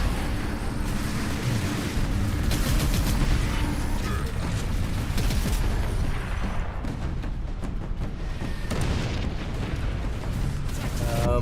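Grenade blasts and gunfire in the Space Marine video game, a dense, continuous barrage of booming explosions and crackling shots with no break, loud and close throughout.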